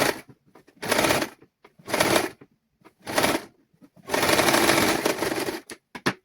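A sewing machine stitches a child's garment in four separate runs of rapid mechanical chatter, the last one longest, with quiet pauses between them.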